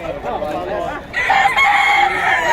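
A young gamecock, a stag, lets out a loud close crow that starts about halfway through and holds to the end, after a brief stretch of voice or other sound.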